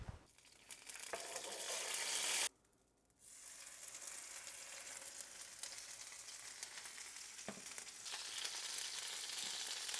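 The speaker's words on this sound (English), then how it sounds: "Just warmed up some of that birria sauce right in the skillet, reduced it." Birria sauce reducing in a hot skillet gives a loud, steady, close sizzle and crackle that cuts off briefly for a moment, then resumes and grows a little stronger, with no talk over it.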